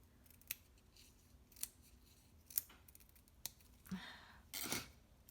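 Several quiet, separate snips of scissors cutting foam dimensional adhesive pieces for a handmade card, spaced about a second apart, ending in a slightly longer rustling cut.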